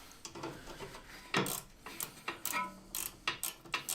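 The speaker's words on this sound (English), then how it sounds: "So using our spanner there, 16mm spanner, and the 5mm hex key. Tighten that up." A 16mm spanner and 5mm hex key tighten nuts while refitting the subframe on a BMW MINI R50/R52/R53. Quiet, close ratcheting clicks and metallic taps come in irregular bursts, with no talk.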